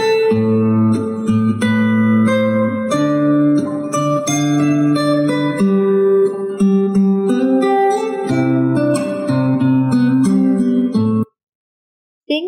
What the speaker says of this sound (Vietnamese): tiếng đàn phát ra từ cây đàn